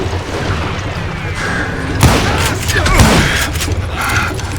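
Gunshots in the western shooter video game Call of Juarez Gunslinger, a few loud booming blasts with thuds and mechanical clatter, the two sharpest shots spaced about a second apart over a rumbling background.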